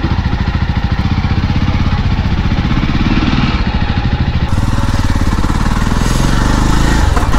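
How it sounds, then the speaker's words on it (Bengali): A motorcycle engine runs close and loud, setting off for a ride from Kolkata to Bakkhali, with a steady, rapid thumping putter that continues unchanged throughout. "বাইক বাইরে রেডি রয়েছে"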